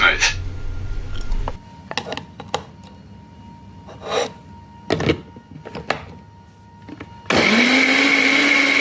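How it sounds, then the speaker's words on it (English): An electric kitchen blender blends onion pieces until smooth for mutton paya soup, its motor whirring in bursts with gritty chopping textures, ending in a loud steady high-pitched whine. "Put onion pieces into blender and blend until smooth."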